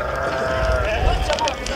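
Sheep bleat at a busy livestock market in Diyala, Iraq, with wavering, nasal calls rising over a dense crowd murmur and nearby voices.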